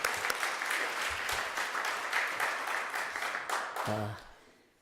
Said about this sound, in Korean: 우리 환영하는 박수로 환영해 주시기 바랍니다